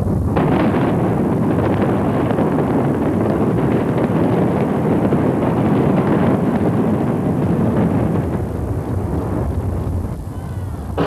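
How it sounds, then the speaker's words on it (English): Demolition of the Geneva Towers housing project buildings produces a long, loud, sustained roaring rumble, dense and broadband like heavy wind buffeting, fading slightly at the end. "most people enjoyed watching the behemoth snap, buckle, and crumble to the ground"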